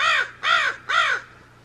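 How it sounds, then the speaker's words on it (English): Three harsh, rasping bird calls in quick succession, loud and close, each about a third of a second, followed by quiet. "Only Cherry in the middle there, between the magpies."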